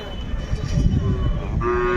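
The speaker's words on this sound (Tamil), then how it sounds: "இந்த பக்கம் ஒரு காளை இருக்குது பாருங்கள், நல்ல காளை, நல்ல மரக்காளை." A bull at a cattle market in Devakottai lowing near and loud over busy crowd noise, one drawn-out call, with a steady tonal note entering toward the end.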